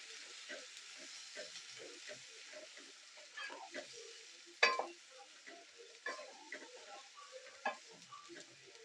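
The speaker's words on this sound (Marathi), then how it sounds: "आता एक कांदा टोमॅटो आणि मिरचीची पेस्ट टाकूया" Onion, tomato and chilli paste frying in a pan for Punjabi-style butter paneer, giving a soft, steady sizzle with scattered stirring scrapes and a few sharper clinks, fairly quiet and with no talking.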